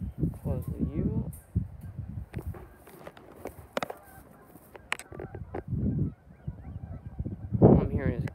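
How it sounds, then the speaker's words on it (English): Geese honk in short bursts near a farm shed, mixed with chicken-like clucks and footsteps on the ground, while a person talks between the calls. "All I'm hearing is geese."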